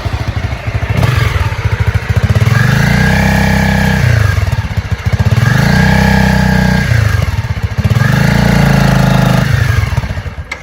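A motorcycle engine revs up hard three times in a row, climbing in pitch with each launch and dropping back between them, loud and close with no talking.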